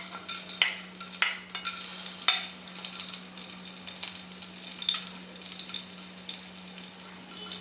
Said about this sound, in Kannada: ಈಗ ಇದನ್ನೆಲ್ಲ ಹರಳು ಹಾಕೋಣ